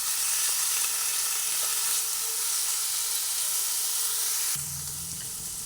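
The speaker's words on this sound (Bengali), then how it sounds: "পেঁয়াজ রসুন আর আদা একসঙ্গে পেস্ট করে রেখেছি সেটা এর মধ্যে দিয়ে দিলাম একটু ভাজা হচ্ছে" Steady, loud sizzling of an onion, garlic and ginger paste frying in hot oil, a continuous crackling hiss that shifts in tone near the end as it is stirred.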